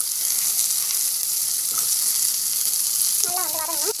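Onion and green chili sizzle steadily in hot oil in a kadai, a loud continuous frying hiss with a brief stirring scrape near the end.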